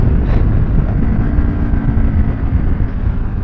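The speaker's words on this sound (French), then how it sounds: "le petit ratata que ça fait dès qu'on arrive au rupteur, c'est magique" A KTM 1190 Adventure motorcycle engine runs loud and close, a dense rough roar crackling and popping at the rev limiter, steady throughout.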